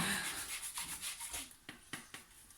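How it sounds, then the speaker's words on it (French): An orange is zested on a grater, giving a faint, close scraping rub in short repeated strokes that slow into a few separate scrapes toward the end. "Donc là, elle va zester donc l'orange."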